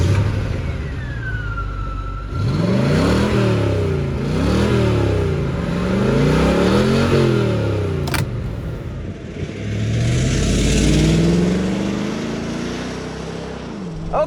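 A nearly new 1996-era Chevrolet Corvette C4 engine pulls hard through repeated rising revs and gear changes, loud and close from inside the car, with the pitch climbing and dropping in successive waves.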